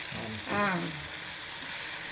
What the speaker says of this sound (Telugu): ఈ ఉల్లిగడ్డలు అవి లైట్గా ఫ్రై అయినాయి